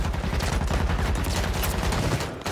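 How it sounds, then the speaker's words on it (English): Video-game mortar fire pounds away in a dense, loud, continuous barrage of overlapping blasts and gunfire that fills the whole stretch before easing off at the end. "It's my mortar going off right now."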